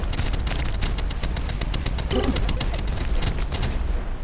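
Rapid bursts of missile turret fire in the wave-defense game From Glory To Goo, dense and continuous with repeated sharp cracks, loud throughout with a brief tonal swell midway.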